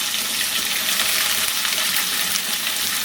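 Small onions and a green chilli fry in hot oil for a prawn gravy, giving a loud, dense, unbroken sizzle that holds steady throughout with no voices.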